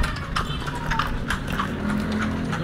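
A horse pulling a carriage through a heritage village clip-clops in a steady, even rhythm. The hoofbeats sound close and moderately loud over a low background murmur.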